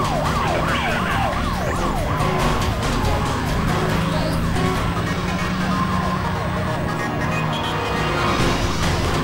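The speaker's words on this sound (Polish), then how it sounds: "O, drugi radiowóz." A police car siren in the Need for Speed Most Wanted racing game wails in rapid rising and falling sweeps. It is loud and continuous over a roaring car engine during a chase.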